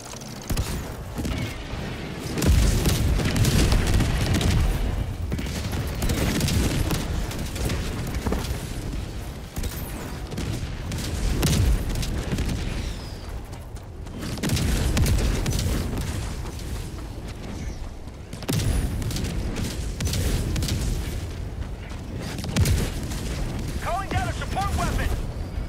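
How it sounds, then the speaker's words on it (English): An orbital barrage strike in Helldivers 2 pounds the ground with repeated heavy booming explosions in long rolling waves, loud and continuous, with players talking over the blasts. "Firing orbital barrage"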